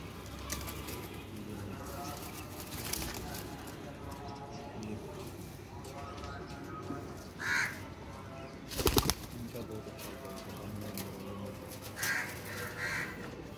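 Teddy baby pigeons cooing and fluttering close by, with occasional short wing flaps and a sharp clatter, under steady background noise and nearby voices.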